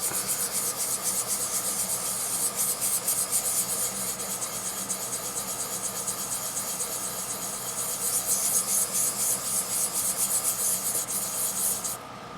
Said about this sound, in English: I'm going to take a sanding stick and we're just going to smooth all that out.